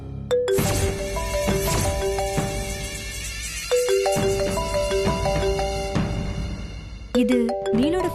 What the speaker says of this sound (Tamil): இப்படி எல்லாரையும் டிஸ்டர்ப் பண்ற மாதிரி போன் அடிச்சுக்கிட்டே இருந்தா அத பாத்துட்டே இருப்பியா?